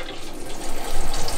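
A water pump sprays through an overhead shower filter for a goldfish tank, giving a steady, close rushing and splashing wash that swells slightly louder toward the end, with no voices.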